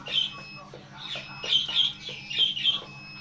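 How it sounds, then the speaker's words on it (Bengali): Native (deshi) rooster and chickens at a poultry farm, giving a series of short squawks and clucks in uneven bursts, fairly near, over a steady low hum of the farm. "এটা দেশি মোরগ।"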